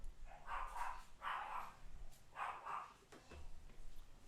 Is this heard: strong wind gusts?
no